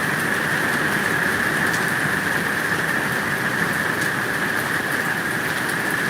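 Steady rain falls in a dense, continuous hiss with a bright sustained tone above it, even and unbroken, with no voices.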